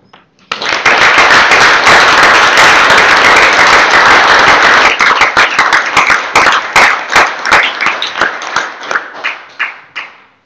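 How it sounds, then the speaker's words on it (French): A municipal council meeting audience applauds the mayor and the new council, a dense burst of clapping that swells quickly, holds loud, then thins into scattered claps before fading. "Je vous demande d'applaudir le maire Jacques Barbier et le nouveau conseil."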